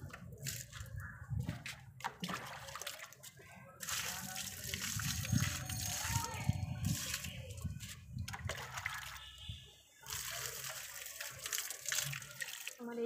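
Water runs and splashes steadily while plants are watered on a home rooftop, a continuous close rush with a brief dip near the end, as someone talks over it.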